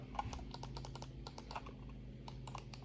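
A brand-new computer mouse fresh from its packaging is clicked repeatedly, giving close, crisp, irregular clicks in quick succession over a quiet room background.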